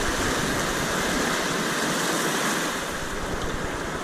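High river water rushes steadily through a ruined town near Hot Springs, North Carolina, a loud, continuous broadband roar that fills the whole moment with no speech.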